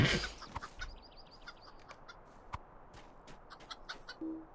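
Chickens cluck in Lord of the Rings Online on a Northcotton farm, with a quick run of faint, repeated clucks and scattered light clicks over quiet game ambience and no talk.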